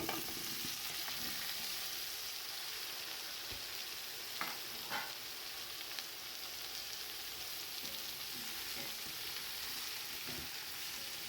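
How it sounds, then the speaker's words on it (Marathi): Vegetables frying in a pot with a steady sizzle, punctuated now and then by soft scraping stirs; no one speaks. "आता यामध्ये आपल्या ह्या भाज्या टाकायच्या आहेत या भाज्या घालून घेऊया"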